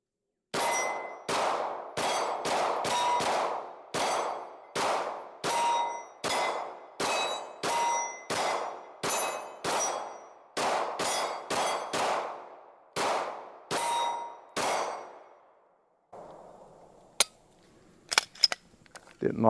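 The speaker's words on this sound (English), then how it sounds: "So let's shoot these 21 rounds here, 22 actually" A handgun fires a full magazine of about 22 rounds in a steady, rapid string of sharp, loud cracks, each ringing briefly. Quieter scattered clicks and taps follow once the shooting stops.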